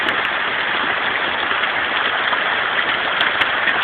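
Large hail pours down during a storm in a dense, steady roar of impacts, loud and continuous with no voices.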